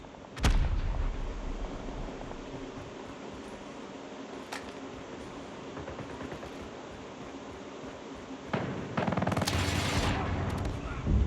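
Bursts of gunfire in Call of Duty Mobile, a sharp blast early then a heavy rattling volley near the end, over a constant droning background.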